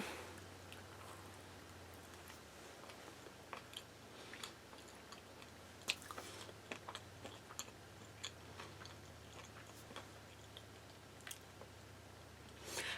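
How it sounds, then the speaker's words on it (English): Someone chews a crunchy glazed Krispy Kreme doughnut topped with sprinkles, giving quiet, close, irregular crunches and clicks over a faint low hum, with no talking. "I wasn't expecting the sprinkles to be quite as crunchy as they were."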